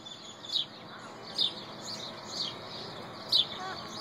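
A parrot gives short, high chirps, four or five brief faint calls spaced about a second apart over a soft hiss, with no clear talking heard.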